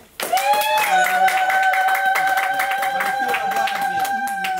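A church congregation claps in a quick, steady run of hand claps, loud and close, over a sustained singing voice.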